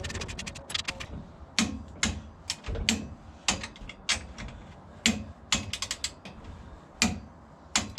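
A ratchet wrench tightening U-bolts on the rear end of a GT 390 Cougar, with bursts of quick metallic clicks and pauses between strokes, close and clear with no talking.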